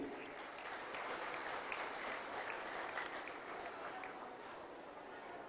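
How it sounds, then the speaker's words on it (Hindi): A crowd applauds steadily, a dense wash of clapping that holds evenly before easing slightly at the end. "मैं चाहूंगा कि एक बार उनके स्वागत में आप लोग जोरदार ताली बजाएंगे।"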